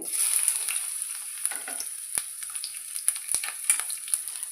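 Garlic sizzles in hot oil as the base for ajwain rice, a bright, steady frying hiss with small crackles and pops throughout.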